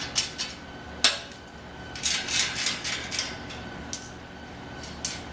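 A 15mm wrench works loose the axle nuts on a beach cruiser bicycle, giving a metallic clink followed by a series of light scraping, ratcheting clicks, fairly close.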